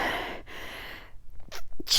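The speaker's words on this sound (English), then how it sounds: "I have to sneeze." A single close, sharp human sneeze bursts out after a brief quiet, with a short intake of breath before the loud explosive release.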